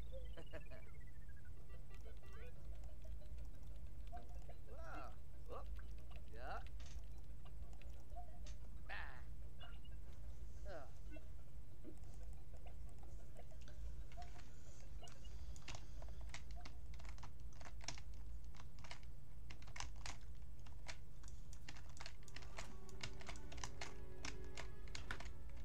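Computer keyboard typing and mouse clicking during a Sims game stream: scattered clacks build into denser rapid clicking toward the end, set against a steady background hum.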